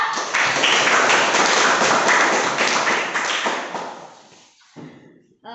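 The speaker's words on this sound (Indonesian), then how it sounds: "aplaus untuk kelompok 2" A class applauds group 2 after their presentation: dense, steady clapping from many hands fills the room, then thins out and fades toward the end with a few scattered claps.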